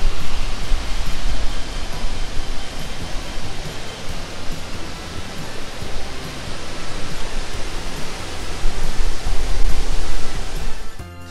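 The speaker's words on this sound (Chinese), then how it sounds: "这就是 Christine 瀑布啦，这是 Christine 瀑布的上游。" Christine Falls on Mount Rainier in Mount Rainier National Park roars as a steady, loud rush of cascading water that fills the whole stretch and drops away sharply at the very end.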